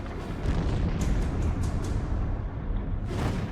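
Explosions burst around a submarine in a war documentary, heavy low rumbling booms that roll on continuously, loud and dense, with a few sharper hits and no voices.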